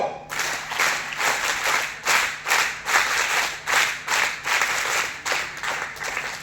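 Audience in an auditorium gives a rhythmic scout clap, about a dozen sharp, evenly spaced bursts of applause over six seconds, loud and unaccompanied by speech.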